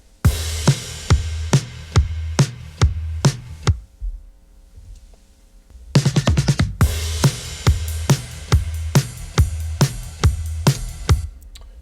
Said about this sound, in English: I recorded the drums 10 years ago and replaced the kick and snare with some samples and added some percussion